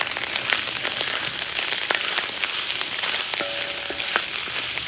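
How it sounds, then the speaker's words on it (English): Beef tongue sizzling and frying in a discada, a steady close crackle with scattered pops running throughout, no voices. "Start frying that up"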